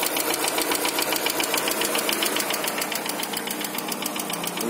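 Daewoo Nexia engine knocking just after a cold start, a fast steady metallic ticking over the idle that stays loud and close with no voices.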